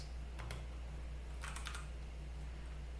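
Keys tap on a computer keyboard in a Linux terminal, with a few soft clicks followed by a quick cluster of keystrokes over a steady low hum, faint and close, with no talking.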